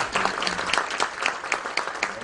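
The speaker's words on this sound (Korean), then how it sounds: "세 분의 교수님께 다시 한번 뜨거운 박수" Congregation at an Easter church service clapping for three professors after their performance, a brief, moderately faint burst of many hands with steady patter.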